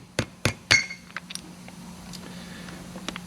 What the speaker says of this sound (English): I got this small little hammer, little baby taps